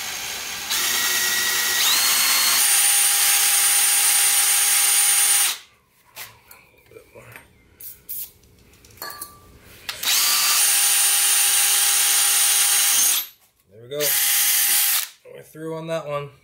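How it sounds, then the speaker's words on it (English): A power drill with an 1/8 inch bit whines loudly drilling metal on a 1966 VW Double Cab, in long sustained bursts separated by quieter stretches of handling noise and a few short spoken words. "I'm using an 1/8 inch drill bit, and then we'll just work our way up to a 1/2 inch."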